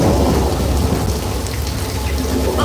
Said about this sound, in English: this rain is a result of an overhead sprinkler system, which shoots the water up in the air, then lets it fall back down to the earth naturally